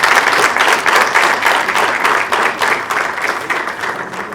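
Loud, sustained applause from an audience at a FIFA-backed hotel opening ceremony, many hands clapping densely and evenly throughout without a break.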